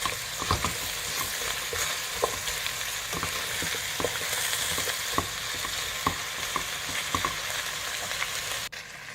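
Chopped vegetables and carrots sautéing in a pan for a beef stew, a steady close sizzle broken by frequent sharp clicks and scrapes of stirring, with no voices.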